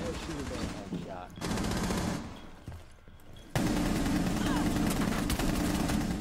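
Rapid automatic gunfire from Rainbow Six Siege rattles in dense, loud bursts, dropping briefly to quieter stretches before a sustained barrage resumes, with a voice talking over parts of it.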